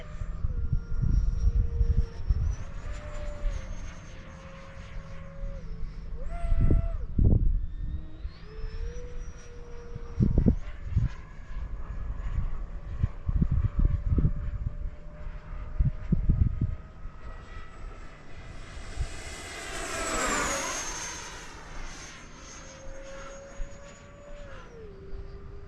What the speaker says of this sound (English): This is a really fun plane.